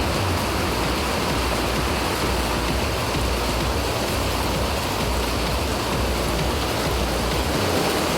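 Heavy rain pours steadily in a Tamil Nadu town, a dense, continuous roaring hiss of downpour with no pauses, loud and close throughout.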